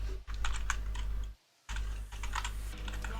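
Keys clatter in quick irregular bursts on a computer keyboard during a search in the IRUNA Online game, with a brief silent gap midway and a steady low hum underneath.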